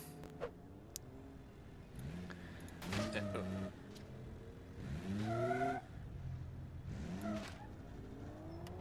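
A 454 engine car in BeamNG.Drive revs hard in repeated surges during a brake stand, with tires squealing and skidding under the roar. Someone talks between the bursts.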